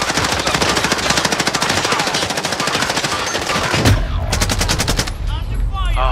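Video game gunfire in a loud, sustained stream of rapid automatic bursts, with a sharp break near the middle before the firing resumes.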